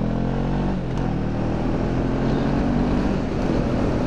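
A truck rumbles past a motorbike on the road, its loud low engine drone and wind rush holding steady across the moment with a brief swell as it goes by.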